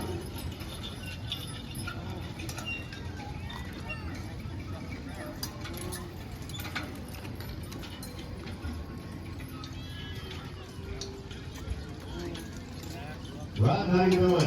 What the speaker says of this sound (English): And Russ Young with the Suffolk Punches